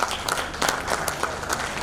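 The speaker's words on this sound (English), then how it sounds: "And one round of applause for" Audience at a Rotary club installation ceremony applauds in a short, brisk burst, with many hands clapping together at moderate loudness.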